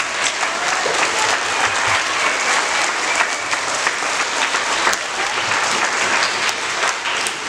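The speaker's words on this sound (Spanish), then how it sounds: "Es un aplauso de bienvenida para todos." A crowd of schoolchildren claps at a primary school to welcome first graders, a dense, continuous burst of applause that stays loud and even throughout.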